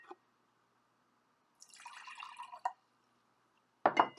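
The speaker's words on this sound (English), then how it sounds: "So I'm going to pour this inside." Water poured from a container into a glass for a homemade water xylophone, a short trickling splash followed after a pause by a sharper clink-like burst, all close and otherwise quiet.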